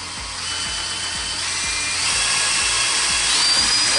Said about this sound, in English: now when you mix, make sure you hold your container because it will spin out and you will have epoxy everywhere